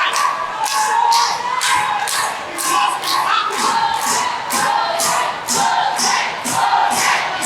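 Wrestling crowd cheering and chanting in a steady rhythmic beat, loud massed voices pulsing in regular repeated shouts throughout.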